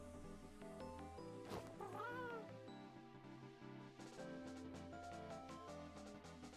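A Minecraft ghast gives a high, cat-like mewling wail of a few rising and falling cries over steady game music, reasonably close and clear.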